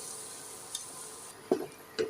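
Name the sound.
stirring mashed potato mixture in ghee in a kadhai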